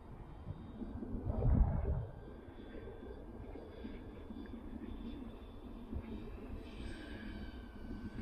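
A tailsitter VTOL RC aircraft passes by, its motor and propeller drone swelling briefly to a near peak and then settling into a steady, more distant hum over outdoor background noise.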